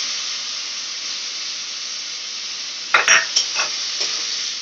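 Spiced masala in a pan hisses with a steady, bright steam-and-sizzle after water goes in, then a few sharp spoon clacks and scrapes break through over the last two seconds.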